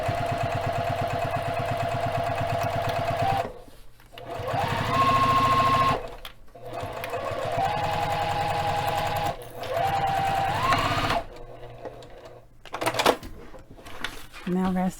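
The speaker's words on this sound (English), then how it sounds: "let's get back stitching up our sides." A sewing machine back stitching up the sides of fabric, running in long steady whirring bursts that stop and restart several times, with short pauses and clicks between runs, close by.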